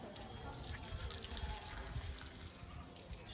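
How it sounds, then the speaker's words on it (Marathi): Running water pours steadily at an outdoor campsite washing station in Canada as shoes are rinsed under it, a continuous close splashing rush with no speech. "शूज घे धुवून."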